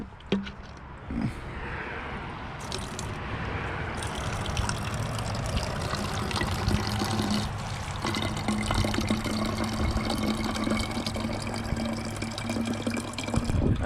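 Water runs from an outdoor tap beside a hiking trail into a bottle, a steady close trickle and pour that carries on throughout with small shifts in pitch as the container fills.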